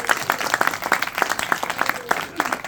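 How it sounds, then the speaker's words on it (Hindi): An audience at a religious gathering claps in a brisk, uneven burst of applause, close and moderately loud, with faint voices underneath. "तालियां बजा दो सारे।"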